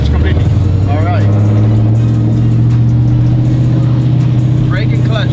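A sequential burnout truck's engine holds a loud steady drone as the clutch is let out, its low tone mixed with occasional voices talking in the cab.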